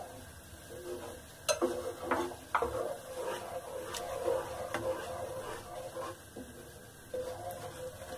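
Milk being stirred into a shahi paneer gravy in a pan, a steady scraping of the spoon with sharper clinks of the utensil against the pot, recorded close up with no talking.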